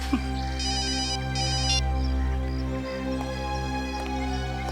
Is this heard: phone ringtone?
yes